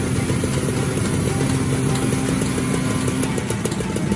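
A motorcycle engine idles close by during servicing, a steady rumbling drone with a fast, even putter that holds throughout without pause.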